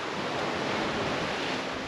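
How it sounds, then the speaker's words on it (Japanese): Rough ocean surf pounds the shore at Funauke on Iriomote Island, a steady, loud wash of breaking waves filling the whole clip with dense roaring noise and no voices. "波の音がすごい"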